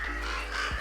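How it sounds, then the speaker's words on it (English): Crows caw from an animated stream alert scene, a harsh, raspy call that holds steady for under a second over a constant low background drone, with no speech. "And then here's the crows."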